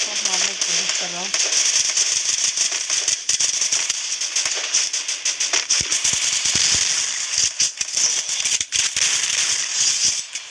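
In a shooting video game, rapid crackling gunfire rattles on almost continuously at close range, loud and dense, with a brief bit of talking near the start.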